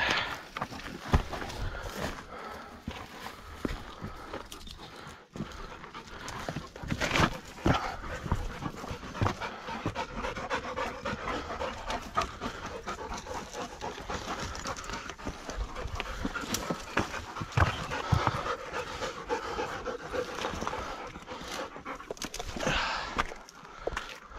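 Dogs panting steadily and close by on a hiking trail, with a rapid breathy rhythm, mixed with rustling movement and occasional footfalls.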